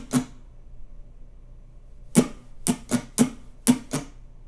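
Sharp, bright down-down-up strums on an acoustic guitar: one alone, a pause, then a quick rhythmic run of six close strokes.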